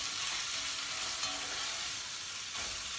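Carrots roasting in a hot pan give a steady, close hiss of frying, continuous and even with a faint crackle and no voices over it.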